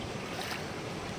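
Floodwater from a swollen river rushes across a road, a dense, constant roar of flowing water mixed with wind buffeting, close and loud.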